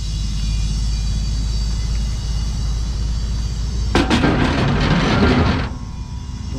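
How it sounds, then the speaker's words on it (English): A bead blaster fires a sudden roaring blast of air to seat a truck tire bead, a loud burst of about two seconds over a steady low engine rumble, with no talking. "They use that blaster right there to shoot air in there to seed the bead"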